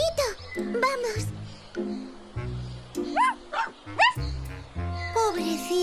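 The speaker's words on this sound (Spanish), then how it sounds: "¡Es un perrito!" A cartoon puppy yips and whimpers in high, short barks while a voice talks and exclaims around it in Spanish.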